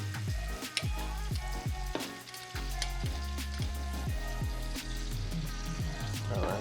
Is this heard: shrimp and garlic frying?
yes